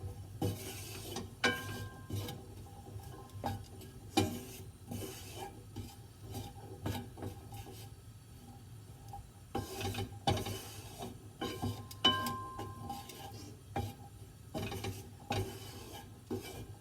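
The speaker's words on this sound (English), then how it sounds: "Using a wooden spoon, you're just going to stir it around and make sure it's all cooked" A wooden spoon scrapes and stirs food around a pan as it toasts, with soft repeated rubbing strokes and occasional light clacks over a low, steady background hum; no one speaks.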